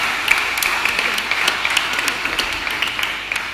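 Audience clapping at a secondary school graduation ceremony in Soufriere, a steady moderate patter of many hands filling the hall, holding at an even level throughout without voices over it.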